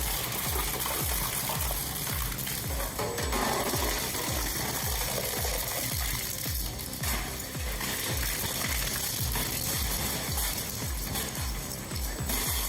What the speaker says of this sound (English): That's industrial muscle from India, crushing e-waste, tires, and metal scraps into uniform particles without shaking the ground?